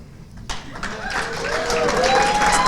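At a chamber of commerce annual meeting, an audience breaks into applause that starts after a brief quiet, swells and keeps building to a dense, loud wash of clapping, with some voices mixed in.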